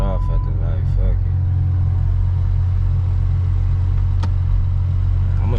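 A 2006 Dodge Charger with a misfire idles with a steady low rumble, close by, as someone talks briefly over the engine.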